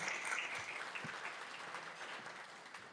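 Applause from an audience as the mayor is invited to the microphone at a meeting with licensed business operators, a brief, fairly faint patter of clapping.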